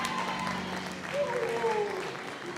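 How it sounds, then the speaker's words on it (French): A church congregation applauding and cheering during a worship service, a dense wash of clapping and voices with louder talk over it throughout. "Est-ce qu'on peut bénir Dieu avec nos acclamations?"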